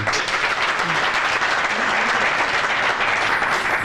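Applause from a studio audience at a televised Ramzan transmission show, loud and sustained across the whole stretch, with a faint voice underneath.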